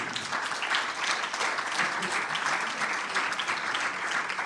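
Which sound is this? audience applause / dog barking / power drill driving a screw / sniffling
audience applause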